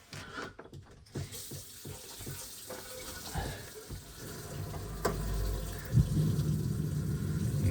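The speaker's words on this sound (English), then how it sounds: "So I'm going to turn on the hot water at the sink." Hot water running from a sink faucet in a vintage Airstream trailer: a few knocks and clicks as the tap is opened, then a steady close gush of water into the basin that grows slightly stronger, no voices.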